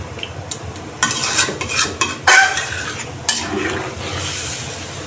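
A spoon or spatula stirring fish curry masala with vegetables and added gravy in a pan: irregular scraping and clinking strokes in short bursts over a soft background simmer, close and fairly loud, with no voices.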